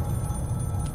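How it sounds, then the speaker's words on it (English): A home telephone rings in the horror video game Scream: The Game, a steady continuous electronic ring heard alone and fairly loud for under a second. "It sounds like a home phone"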